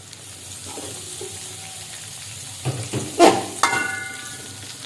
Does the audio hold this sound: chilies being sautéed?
yes